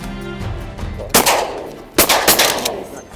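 Shotgun blasts during waterfowl hunting in a cattail marsh: two loud, sharp reports about a second apart, the second trailed by quick follow-up shots, over a soft outdoor background.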